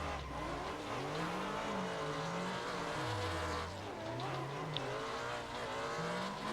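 Race cars drift in the Assetto Corsa video game, with engines droning and revving up and down continuously and tires hissing and squealing, loud and steady throughout with no talking.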